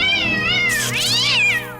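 A cat gives a long, loud, drawn-out meow that rises and bends in pitch, close and alone.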